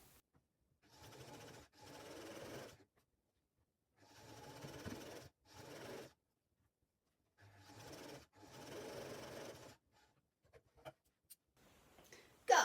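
Sewing machine stitching across the fitted straps at the end of a tote bag made from a pillowcase, running in several short bursts of a few seconds each with pauses between, moderately close, with a few faint clicks near the end.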